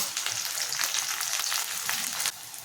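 Onion pieces, green chilies and curry leaves sizzle and crackle steadily in hot oil, a bright continuous frying hiss with a little stirring, with no talk.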